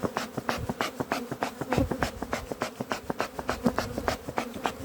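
Honey bees buzz around hives at an apiary after days of cold rain, a busy drone broken by frequent short ticks and taps close by.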